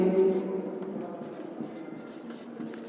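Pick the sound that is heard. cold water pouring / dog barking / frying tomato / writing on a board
writing on a board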